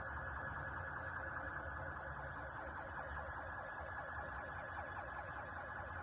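Steady wailing sirens blend into a continuous rising-and-falling drone, distant and fairly quiet, with no voices.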